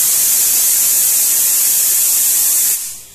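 A pressure cooker whistle releases a loud, steady hiss of steam that holds for nearly three seconds and then cuts off abruptly, alone without talk.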